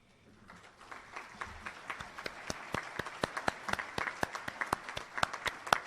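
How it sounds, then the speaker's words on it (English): An audience at a church diocesan convention claps steadily, the applause swelling in from quiet to a full, sustained patter of many hands at moderate distance. "I want to include in that clapping the mentors."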